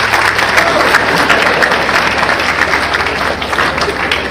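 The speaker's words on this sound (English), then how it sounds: "Clap if you want to clap. Let's clap for sex." A church audience applauds loudly during a sermon, a full, sustained round of crowd clapping close and dense from start to end, with a low hum underneath.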